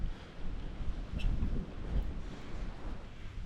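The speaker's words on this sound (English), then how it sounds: "it is really windy" Steady wind buffeting with low rumbling gusts, fairly loud and continuous throughout, no voices.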